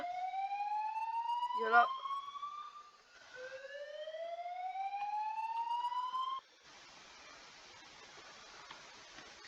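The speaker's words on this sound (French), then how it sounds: "Il a activé l'alarme" An electronic alarm gives out rising siren sweeps, two long upward wails with a short break between them, followed by quieter background noise. A voice speaks briefly partway through.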